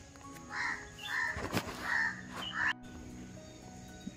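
Four harsh, crow-like caws in quick succession, fairly close, followed by a short stretch of quiet, at Savlya Ghat viewpoint in the Sahyadri hills near a waterfall.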